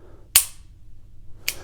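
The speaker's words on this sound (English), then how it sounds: "The wall on the single action trigger is pretty stiff" Two sharp mechanical clicks from a Smith & Wesson Model 36-1 revolver's single action trigger, the first louder near 0.35 s and a second about a second later, against a quiet background with no talking.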